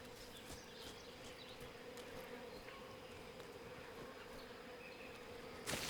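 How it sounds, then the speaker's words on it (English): Bees buzzing in the video game Metal Gear Solid Delta: Snake Eater, a faint, steady droning hum beneath quiet ambient outdoor game sounds, ending in a sudden loud burst. "I hear bees."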